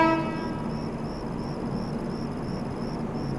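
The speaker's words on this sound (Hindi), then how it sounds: "आ गया WP7 लोकोमोटिव के साथ गोरखपुर आनंद विहार हमसफ़र एक्सप्रेस" A Gorakhpur–Anand Vihar Humsafar Express hauled by a WP7 locomotive rolls in slowly, a brief horn note at the start giving way to a steady broad rumble, with crickets chirping in a regular pulse throughout.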